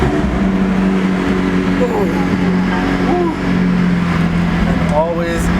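A McLaren 600LT sits idling after a warm start, its engine a steady, low rumbling drone, close by, with faint voices over it.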